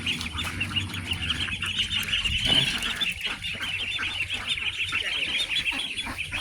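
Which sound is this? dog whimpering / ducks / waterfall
ducks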